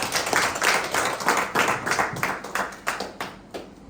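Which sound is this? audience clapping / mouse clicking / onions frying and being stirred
audience clapping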